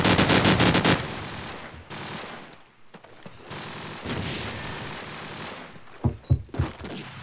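Bursts of gunfire from a competitive tactical shooter, fired through the wooden wall and window of a house: rapid automatic volleys up front, then quieter stretches and a few sharp, loud shots near the end.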